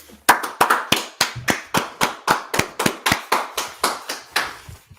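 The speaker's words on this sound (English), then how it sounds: "Let's clap it up." A small group at a street gathering in Washington, DC claps in a steady, crisp rhythm, about twenty sharp hand claps in quick succession, close and clear with no talk over them.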